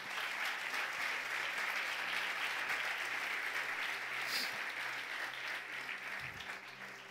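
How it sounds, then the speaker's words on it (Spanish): Loud, steady applause from a church congregation fills the space for several seconds, dense clapping with a faint crowd murmur underneath, easing slightly toward the end. "Den un aplauso fuerte a Jesús"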